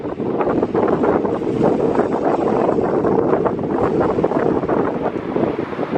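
Strong gusting wind at London Gatwick Airport roars steadily across the microphone as a loud, unbroken rush that lasts the whole stretch, with no voices heard.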